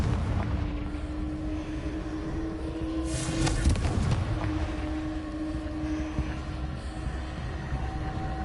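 Confringo fire spell cast in the Hogwarts Legacy video game: a burst of whooshing, crackling blast rises around the middle over a steady low game rumble, then fades back to the background drone.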